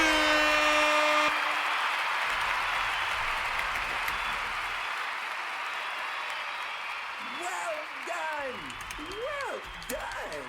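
Applause sound effect played on a livestream: a sustained wash of dense clapping that runs nearly the whole clip, fading slightly toward the end, with a voice heard briefly near the close.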